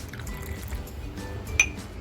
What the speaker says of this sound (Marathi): ह्या मच्छीच्या मसाल्यामध्ये आहे ना पाणी टाकून घेते